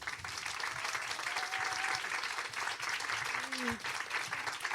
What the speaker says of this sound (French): Un tonnerre d'applaudissements s'il vous plaît pour Alison Cavaillé.